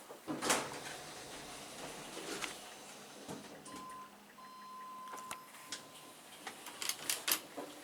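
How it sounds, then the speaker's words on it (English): A Dover Impulse hydraulic elevator door at a Best Western hotel in Kokomo, Indiana, sliding shut: scattered clicks and rattles, a faint steady beep tone, then a quick run of ticking and clunks as the door closes, moderately near. "That's a fast door."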